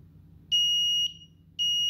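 A buzzer on a DIY Arduino weather station sounds two loud, steady high-pitched electronic tones at close range, the second cut off at the end, over a faint low hum.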